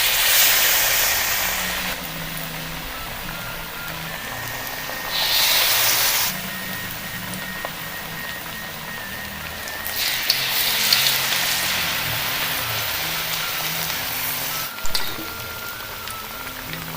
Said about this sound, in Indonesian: langsung kita masukkan ke dalam minyak panas. Kita goreng.